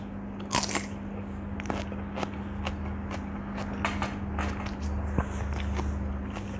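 Close, crisp crunching bites into a cucumber, recorded on a Boya BY-M1 microphone, with crackly snaps over a steady low electrical hum, several bites spread irregularly across the clip.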